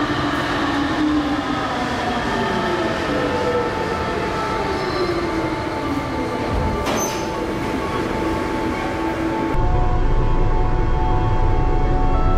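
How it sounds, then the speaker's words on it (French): Train travelling through the Pyrenees, heard from inside as a loud continuous rumble with shifting tonal whine and wheel noise, the sound changing abruptly near the end. "Et on continue le voyage en train, aujourd'hui, à travers les Pyrénées."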